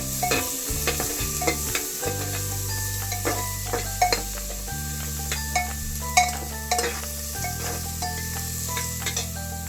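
Onion, ginger and garlic sizzling in a pan, loud continuous frying hiss with frequent scraping stirs and clinks of a utensil against the pan.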